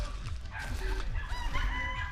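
Several chickens cluck and a rooster crows nearby, overlapping calls in a busy farmyard chorus.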